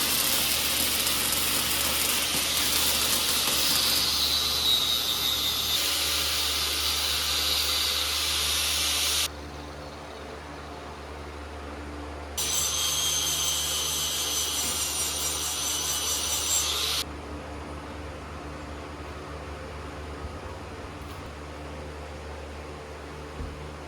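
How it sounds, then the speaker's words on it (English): A flap disc on a grinder sanding down overbuilt rosette welds on a triangulated 4-link suspension, heard as loud, harsh, continuous abrasive hissing in several long passes, with brief drops in intensity between them. "he overdid it a lot so that I can come in with the flat disc and sand this down, which is what I'm about to do"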